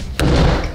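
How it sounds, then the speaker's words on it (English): A self-closing door slams shut with a single sharp, loud impact followed by a brief low rumbling decay. "the self-closing door."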